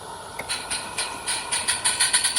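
A radio-controlled live steam locomotive pulling a train of cars backs up in reverse, giving out a regular rhythm of sharp chuffing hiss bursts that grow quicker and stronger, close by with no voices.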